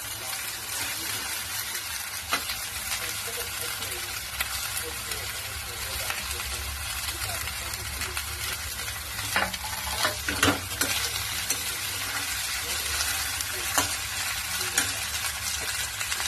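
Spring onion greens sautéing in a pan for Maharashtrian bharit, giving a continuous close, hissing sizzle with occasional scraping stirs of a spatula, while someone talks over it.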